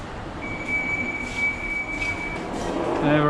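A subway train rides through the London-themed station at the Londoner casino in Macau, its steady rumble carrying a long, thin wheel squeal before a brake tone rises at the end.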